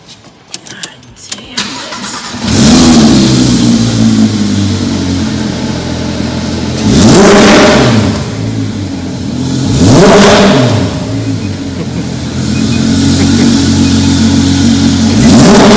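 A 2014 Porsche GT3 in factory Martini livery starts after a few faint clicks, catching with a loud bark and settling to a high idle, then revs hard in three loud blips spaced a few seconds apart.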